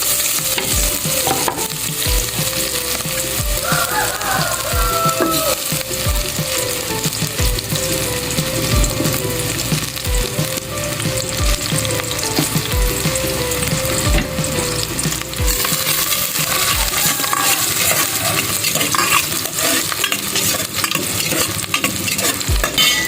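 Onions fry loudly in a hot, smoking pan, with steady sizzling and repeated scraping and clattering of a spatula as they are stirred. The sound runs continuously throughout, with no talking.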